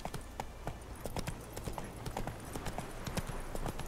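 A horse gallops in The Witcher 3: Wild Hunt, hooves drumming in a quick, steady rhythm, close and clear over a low ambient bed.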